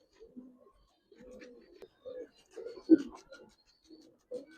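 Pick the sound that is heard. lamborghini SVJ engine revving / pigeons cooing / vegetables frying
pigeons cooing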